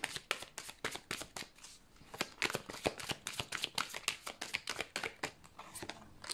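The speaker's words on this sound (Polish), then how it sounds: "a ja już losuję dla Was karty z odpowiedziami na te pytania" A deck of tarot cards is shuffled by hand in quick, papery riffles and flicks, a dense run of sharp bursts with brief pauses, close and clear, with no voices.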